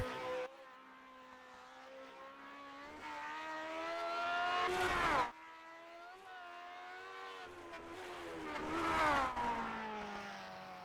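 Race cars in the Grand Prix Legends game cross the finish line at Oulton Park Circuit, engines droning with rising and falling pitch as two cars sweep past in quick succession, fairly quiet.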